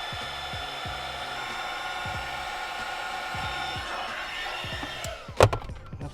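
A heat gun blows steadily on heat-shrink tubing over spliced wires during a GMRS radio install, a continuous airy whir ending in a couple of sharp knocks and clatters near the end.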